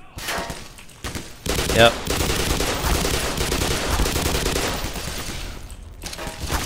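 Loud machine gun fire in the video game Black Mesa, sustained rapid bursts with short gaps, close and dominant, with a brief word spoken at the start.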